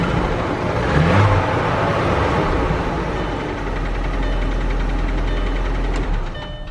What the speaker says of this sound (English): So as I rev it up, you kind of hear it goes away.